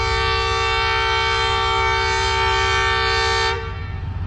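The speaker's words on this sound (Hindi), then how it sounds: "तो गौरी एक्सप्रेस का भी डिपार्चर हॉर्न हो चुका है" Departure horn of the Ghouri Express at Faisalabad station, one long, loud, steady multi-tone blast held for about three and a half seconds before cutting off, leaving a low rumbling background.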